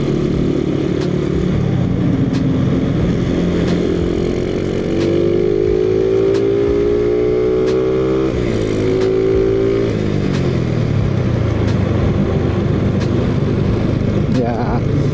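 A motorcycle engine runs steadily during a test ride, its pitch rising and falling as it revs and shifts, loud and close throughout with no talk over it.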